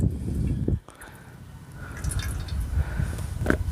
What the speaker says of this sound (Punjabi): ਇਹਨੂੰ ਚੰਗੀ ਤਰ੍ਹਾਂ ਜਦੋਂ ਆਪਾਂ ਹੱਥ ਦੇ ਨਾਲ ਨੱਪਾਂਗੇ ਤੇ ਇਹਦੇ ਵਿੱਚੋਂ ਜਿੰਨਾ ਵੀ ਗੰਡਿਆਂ ਦਾ ਪਾਣੀ ਆ ਉਹ ਸਾਰਾ ਬਾਹਰ ਆ ਜਾਣਾ